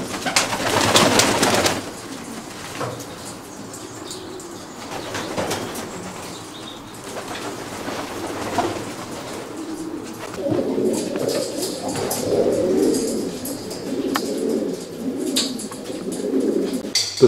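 Racing pigeons coo and flutter in a loose flock in an aviary, with soft wingbeats and scattered calls close by against a steady outdoor background.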